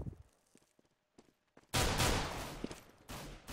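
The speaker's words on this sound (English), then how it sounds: "What is Lord doing with just a pistol" Gunfire from a Counter-Strike match on the de_dust map: a few faint shots and footsteps come first, then loud sustained bursts of automatic fire erupt and continue in close, dense volleys to the end.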